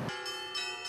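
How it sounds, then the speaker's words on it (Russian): Church bells peal faintly and at a distance during a patronal feast procession at the Orthodox church of St. Dmitry Donskoy in Krasnodar. The bells give a soft, brief ringing with a shimmering overtone and no voices. "Богослужение по традиции завершилось праздничным крестным ходом под колокольный звон."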